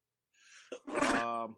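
A single sharp sneeze bursts out loud and close after a brief inhaled breath, followed by a voiced, tonal tail; a person talks about football trades around it.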